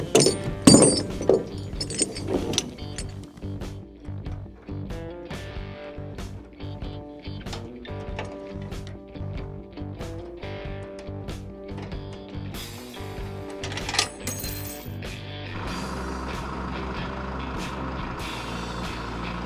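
Kubota 97 compact track loader driving off a trailer, its diesel engine droning steadily with clanks, squeaks and metallic knocks from tracks on the ramp, ending in a steadier engine hum.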